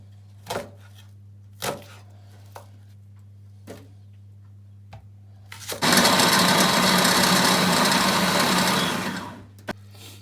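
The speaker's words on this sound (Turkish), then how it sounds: "Sonra sarımsağımızı, soğanımızı çekip yoğuracağız." Garlic and onion are ground in an electric chopper for chicken meatballs, with a few scattered clicks and knocks, then a loud steady motor whir for a few seconds before it stops.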